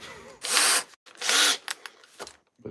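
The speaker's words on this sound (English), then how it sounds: "this drill's been through a lot already." A worn Bosch professional power drill, used on garden railway tunnel construction, whirs in two loud, close bursts of about half a second each, followed by scraping and clattering handling noises.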